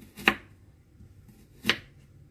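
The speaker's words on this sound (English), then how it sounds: "For cabbage, just cut thinly like this." Two crisp knife cuts through thinly sliced cabbage and carrot, spaced well apart, close and fairly quiet against a soft background hum.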